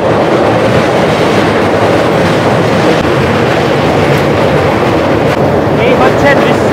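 A South Eastern Railway local train rolls past in a loud, continuous rumble with a steady rush of wheels on track, heard from a nearby vantage point above the line.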